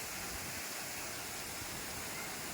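Water pours steadily down the tiers of Thripparappu waterfall, a dense, continuous rushing roar that is close and loud throughout, with no other sounds standing out.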